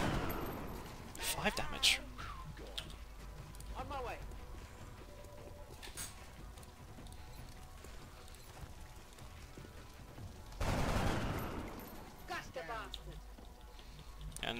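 Squad gunfire from flanking positions in the video game XCOM Enemy Within, Long War mod: clustered bursts of shots near the start and again later, with a voice talking over most of the clip.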